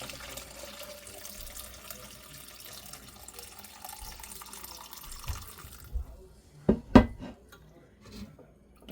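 Elderberry syrup is poured through a strainer into a kitchen pot, giving a steady liquid trickle, followed by a few sharp clinks and knocks of the utensils near the end.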